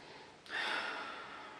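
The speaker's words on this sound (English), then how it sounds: "let's have a sniff" A close, soft nasal inhale as someone sniffs an amber beer with lemongrass and coriander, one brief breathy draw in an otherwise quiet room.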